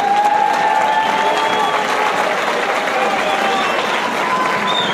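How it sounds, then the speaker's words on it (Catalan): Loud, steady applause from a large outdoor crowd at a Catalan giants gathering in Calella, continuous across the whole stretch, with a few sustained whistles or tones riding over the clapping. "un fort aplaudiment"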